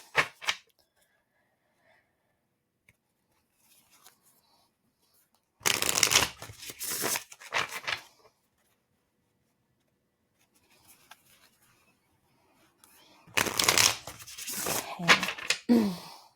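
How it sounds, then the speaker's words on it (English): Tarot cards being shuffled by hand in two separate bursts of brisk riffling and rubbing, close and crisp, with near silence in between. "So let's shuffle."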